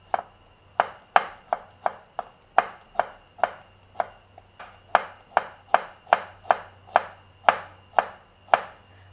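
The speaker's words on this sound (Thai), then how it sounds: "ในส่วนของกระเทียมนะคะก็ไม่ได้มีอะไรพิเศษมากมายนะคะก็แค่หั่นนะคะให้ชิ้นเท่าๆกันนะคะ" Sharp knife thinly slicing large garlic cloves on a cutting board: about twenty crisp, evenly paced chops, close and clear, with a faint low hum beneath.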